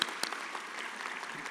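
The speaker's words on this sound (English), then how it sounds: "Give you a round of applause." Scattered applause rises at a nursing pinning ceremony, a brief, fairly quiet patter of clapping from a small audience lasting under two seconds.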